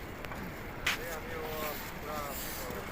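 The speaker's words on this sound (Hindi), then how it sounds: "ये देखिए झरना।" A waterfall near Kedarnath in the mountains gives off a steady, even rush of falling water, with faint voices briefly audible over it.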